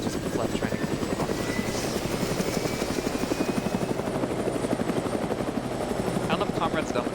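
Steady, loud rotor chop and engine buzz of an Mi-8 helicopter flying in Arma 3, continuous throughout with a voice talking over it.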